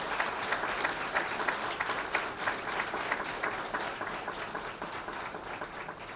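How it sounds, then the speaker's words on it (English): An audience claps steadily at an interview event, the applause fairly faint and distant, with a few louder individual claps standing out from the even wash. "let's give them a round of applause"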